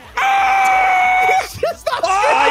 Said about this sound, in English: Stop screaming!